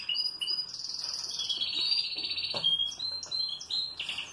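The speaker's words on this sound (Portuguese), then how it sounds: "É um canário cantando, pessoal." A canary sings in a continuous run of bright, high trills and chirps, fairly close and loud, with no talking over it.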